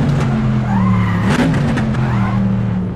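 A Corvette C2 in Assetto Corsa at Watkins Glen locking its tires under braking, a loud squeal over the steady engine drone, the engine note shifting as the car slows.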